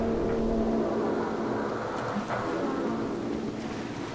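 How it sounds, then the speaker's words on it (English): A steady wash of water rushing over a small ship's bow in Garry's Mod, with a low rumbling drone, continuous and fairly loud throughout, with no voices. "And water has now washed onto the bow."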